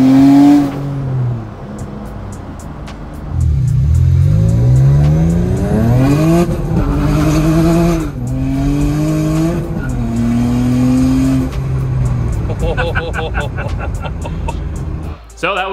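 A turbocharged V6 Honda accelerates hard on its first drive, its engine note sweeping upward as the boost builds and the tires spin and squeal. Loud and close, with a voice talking over it in places.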